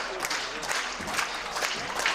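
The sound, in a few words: ice hockey crowd applauding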